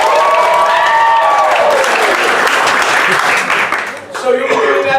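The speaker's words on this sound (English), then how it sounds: "I want you guys to give the loudest applause you possibly can." A pizza shop audience applauds loudly and steadily, dense clapping filling the room with some voices mixed in; the applause dips briefly near the end and then picks back up.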